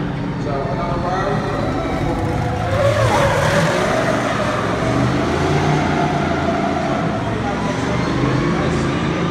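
A race car circles the Yas Marina Circuit, its engine a continuous, fairly loud drone that rises briefly near the middle, while a voice talks over it.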